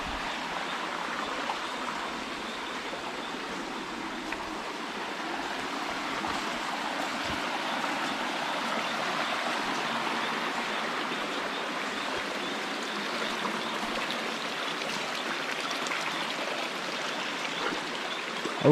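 A cold mountain river stream in rural Colombia, rushing steadily over rocks with a constant close, full-bodied hiss and gurgle, unbroken and alone without voices.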